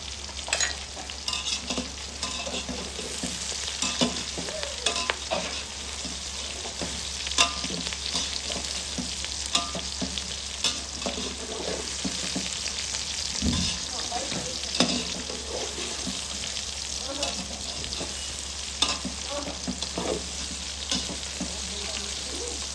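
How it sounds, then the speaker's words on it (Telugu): Washed meal maker soya chunks fry in a pan for a pulao, with a continuous close sizzle and occasional stirring scrapes running throughout. "మిల్ మేకర్ వేసి బాగా ఫ్రై చేయండి"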